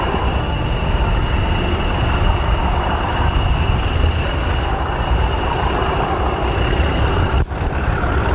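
Steady low rumble of an express train on a snowy railway, a continuous rolling roar with a faint high whine, close and loud throughout, briefly dipping near the end; no voices.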